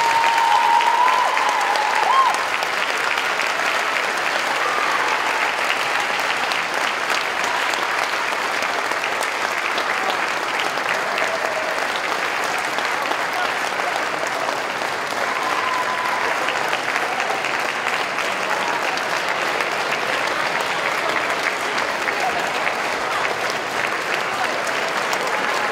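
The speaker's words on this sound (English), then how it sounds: "let's give Joan and her son a big round of applause" Sustained audience applause for Joan and her son, a dense steady clapping of a sizeable crowd lasting throughout without letup.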